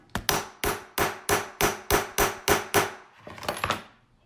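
An ImpressArt multi-function hammer strikes metal in about nine sharp, evenly spaced metallic blows, then a quicker, softer cluster of taps at the end, close and distinct with no talking.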